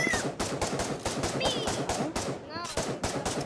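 Rapid automatic gunfire in the Pavlov Shack VR video game rattles out as a steady, loud stream of evenly spaced shots that continues for several seconds, with brief voices underneath.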